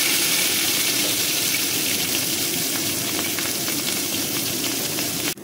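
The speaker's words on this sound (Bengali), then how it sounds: "মশলাটা ভাজা ভাজা হয়ে গেছে" Asafoetida, panch phoron, ginger and chili fry in hot oil in a kadai for a potato curry. A loud, steady, close hiss continues with crackling and ends abruptly.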